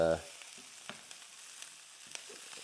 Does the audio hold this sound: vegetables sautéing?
yes